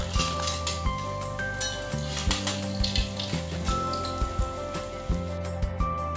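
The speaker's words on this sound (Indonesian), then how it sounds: "Goreng kembali sisa adonan rempeyeknya sampai habis ya." Rempeyek peanut crackers fry in hot vegetable oil with a steady, dense sizzle and crackle, close and loud, while soft background music plays underneath.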